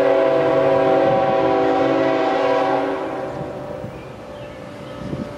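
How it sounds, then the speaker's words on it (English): A train rumbles with a sustained horn-like tone that fades after a few seconds, leaving quieter rail noise; no one speaks. "hear the train coming?"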